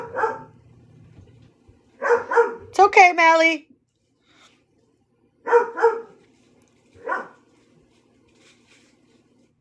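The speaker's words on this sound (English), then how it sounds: "That's that German Shepherd deep bark." A German Shepherd gives several deep, loud barks in separate bursts close by, with people talking over and between them.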